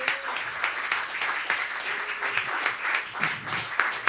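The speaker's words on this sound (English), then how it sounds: "So big clap for Camille Colatossi." Audience applause at a music event, a steady wash of many hands clapping at moderate distance, sustained evenly with little talk.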